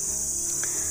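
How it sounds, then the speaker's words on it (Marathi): Crickets chirp in a dense, continuous high-pitched drone in the background outdoors at night, steady and fairly loud throughout the short stretch, with no talk. "असा बॅकग्राऊंडला बघा भरपूर असा आवाज असतो रातकिड्यांचा"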